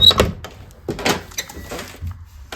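A small door in an old-fashioned house, beside an old sink and hiding plumbing, is opened with a few close wooden knocks and rattles spread over a couple of seconds, with no talking.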